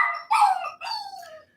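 A puppy whines and yips in two short bursts, close and fairly loud, with high whimpering tones sliding downward.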